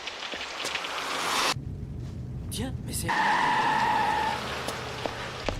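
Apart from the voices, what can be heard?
heavy rain falling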